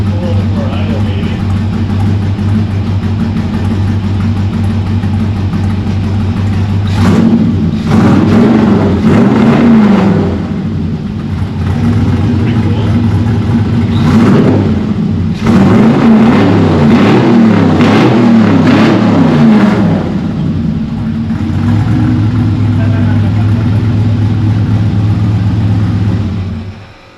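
A worn 1957 Chevy engine runs at a steady idle, breaking into several quick revving bursts in the middle before settling back to idle, with voices talking during the revs.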